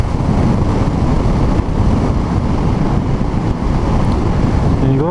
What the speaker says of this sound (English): it's really windy again